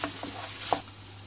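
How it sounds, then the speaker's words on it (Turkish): Sautéed chicken filling with tomato paste stirred in a frying pan, a soft continuous sizzle with a few light scrapes and one sharper utensil knock near the end. "Karıştırıyoruz."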